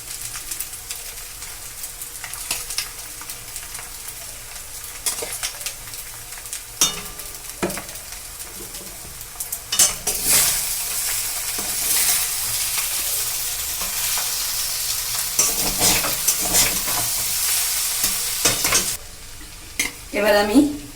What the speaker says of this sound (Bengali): এটা নেড়ে নেড়ে আমি ভেজে নেব।